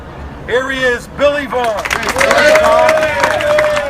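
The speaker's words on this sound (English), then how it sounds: "a rousing Fort Lauderdale round of applause for a guy from Stewart" Crowd at an Iran rally in Fort Lauderdale breaking into applause and cheering, building into steady clapping and hubbub while someone speaks over a loudspeaker.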